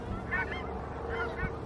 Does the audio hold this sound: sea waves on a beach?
no